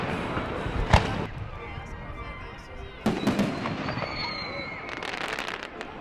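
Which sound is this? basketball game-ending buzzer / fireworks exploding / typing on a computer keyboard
fireworks exploding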